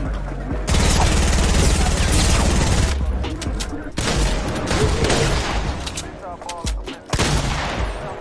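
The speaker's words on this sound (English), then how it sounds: "A dynamite again" Dynamite blasts and heavy gunfire in a Fortnite tournament match, loud and continuous, with bursts of explosive booms and crackling shots layered under game noise.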